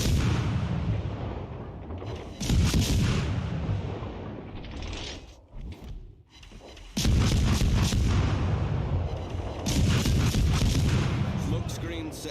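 Warship main guns fire in World of Warships Legends, heavy booming salvos in bursts with rumbling decay between them, loud and close, with a talking voice mixed underneath.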